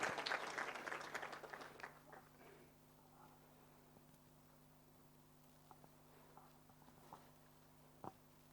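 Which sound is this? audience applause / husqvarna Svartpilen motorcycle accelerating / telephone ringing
audience applause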